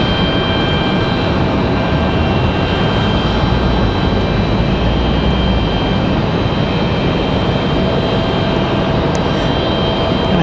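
A Boeing 737 arriving from Chicago descends to touch down at Raleigh-Durham International, producing a loud, steady jet roar with a faint whine, continuous throughout and alone.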